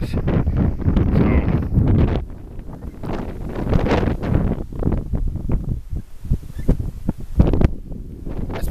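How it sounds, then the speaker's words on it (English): South wind buffeting a microphone outdoors in late November, a loud, continuous rumbling roar with gusty surges that rise and fall throughout. "That's the south wind."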